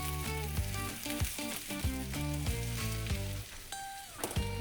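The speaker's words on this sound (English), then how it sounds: "We're gonna toss our onions with the butter." Onions sizzle steadily with butter and olive oil in a pan for a caramelized onion and fried egg burger, a continuous close frying hiss with a few stirring knocks and no talking.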